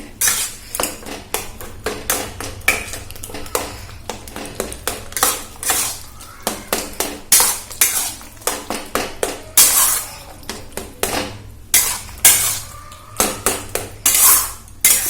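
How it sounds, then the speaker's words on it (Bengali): Poppy seed paste is stirred and mashed in a pan, giving a dense run of close, loud metallic scrapes and clinks from the utensil striking the pan in an irregular, fast rhythm throughout. "এরপর ভালোভাবে নাড়িয়ে নিচ্ছি এবং এইভাবে একটু ম্যাশ করে নিচ্ছি, যাতে ভালোভাবে মিশে যায় একসঙ্গে"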